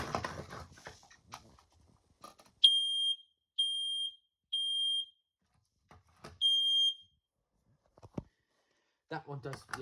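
A smoke detector from a collection gives a series of loud, piercing electronic beeps in separate bursts of about a second each. A person speaks briefly before and after them.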